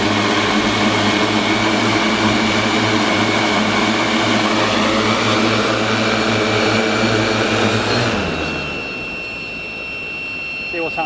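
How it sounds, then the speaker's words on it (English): Drone motors and propellers whine loud and close as the throttle rises, the pitch wavering erratically before the rotors suddenly drop and spin down near the end. "you should start to hear the motors change"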